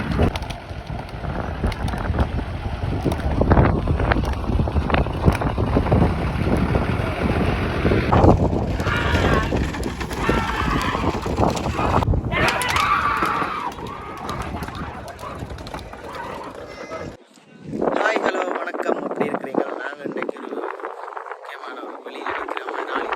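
A bullock cart race in Araly runs past outdoors. Hooves and rattling carts make a steady roar, with wind buffeting the microphone, crowd noise and a voice talking over it.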